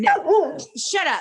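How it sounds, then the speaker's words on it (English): A pet dog barks sharply a couple of times, close and loud, while a person scolds it at the same moment. "That was my dog."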